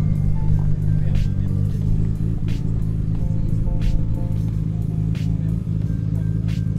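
A Ferrari sports car engine burbles at a low idle, with short repeated revs and pops over a steady deep rumble.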